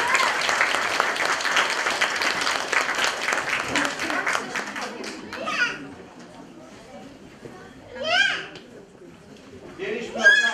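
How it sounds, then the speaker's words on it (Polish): An audience claps loudly for children about to sing Christmas carols, the dense applause fading after about five seconds, followed by scattered children's voices and brief calls in a hall. "Wielkie brawa!"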